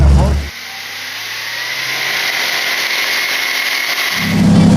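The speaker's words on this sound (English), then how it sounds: "I never expected a V8 outboard to perform like this." Mercury 4.6 litre V8 outboard motor running on a boat, a steady smooth drone that holds for several seconds between louder bursts of wind or water noise at the start and end.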